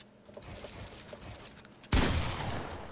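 Gunfire from a video game, with a sudden loud burst of shots at a target. Faint keyboard and mouse clicks come before it, and nobody talks.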